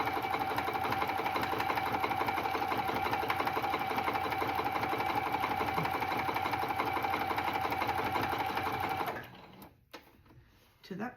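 A sewing machine stitches a white flannel rag quilt in a fast, steady mechanical whir with an even needle rhythm for about nine seconds, then stops abruptly, and a few faint clicks follow.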